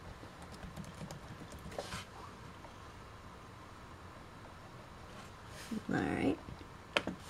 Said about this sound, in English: Simply type in Chrome OS and our password.